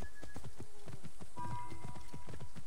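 A horse's hooves clip-clop at a steady trot in the video game Assassin's Creed Origins. The rhythmic, evenly spaced beats are clear and close, with faint ambient game sounds behind them.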